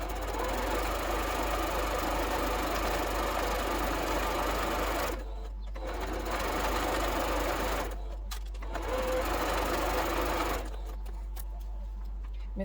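A sewing machine stitches a quarter-inch seam down the long side of a nine patch quilt block, its rapid mechanical whirring running close and steady in several bursts separated by short pauses.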